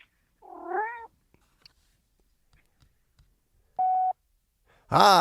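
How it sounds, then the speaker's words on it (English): A single cat meow rises and falls, followed by scattered soft clicks, a flat electronic beep, and a second loud meow at the end. "Leave a message after the meow"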